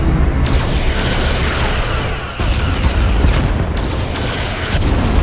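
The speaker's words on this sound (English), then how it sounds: "Fire everything. Hit them with everything we've got." Starship weapons firing during a space battle in the Star Trek Resurgence video game, a loud continuous barrage of booming blasts and bursts with brief dips, no voices over it.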